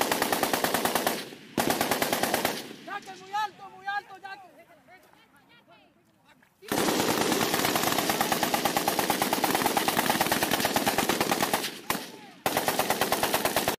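Machine gun fire in combat footage from Colombia: long, loud bursts of rapid automatic shots with a short lull of voices and quieter sounds in between, then sustained firing resumes with brief gaps.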